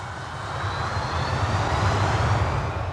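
A jet airliner's engines running up to takeoff power, a loud, dense roar that swells steadily across the clip with a faint high whine on top, heard alone without voices.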